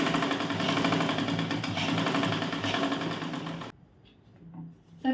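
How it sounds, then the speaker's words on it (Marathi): A sewing machine stitches the shoulder of a gown in a fast, steady mechanical whirring run close by, which stops abruptly near the end, leaving quiet handling noises. "सो शोल्डरला मी टिपा मारून घेते."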